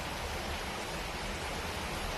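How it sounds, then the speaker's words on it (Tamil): Heavy rain pours down outside as a steady, dense hiss with no break or change in intensity, and no voices over it. "மழை இங்க வந்து பயங்கரமா பெய்யுது."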